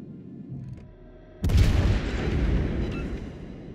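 A Bismarck battleship's cannon fires in a naval video game with a sudden loud boom and a rumbling roar that trails off over a few seconds.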